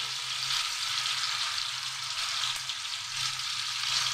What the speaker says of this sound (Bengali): আলাদা কড়াইতে আমি তেল নিয়ে মশলা কষিয়ে নিচ্ছি